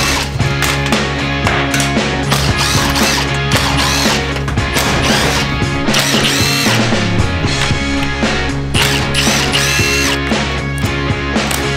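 Loud, continuous whirring and rattling of a power tool working bolts loose inside a van being stripped out, with metallic clanks and brief pauses in pitch, close up and without talk.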